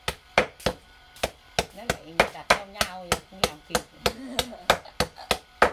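Steady rhythmic chopping of bones on a cutting board to make Vietnamese bone salt, a long series of sharp, close thwacks at an even pace while someone speaks between strikes.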